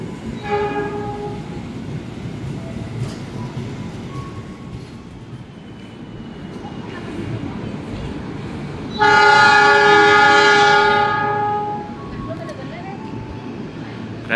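The Argo Parahyangan passenger train departs Jatinegara station, rumbling steadily nearby amid background chatter, then a loud horn blares for about three seconds before the rolling rumble continues.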